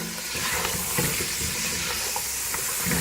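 Onions frying in oil over a medium flame, giving a steady close hiss and sizzle that runs throughout, with faint stirring bumps under it and no talking.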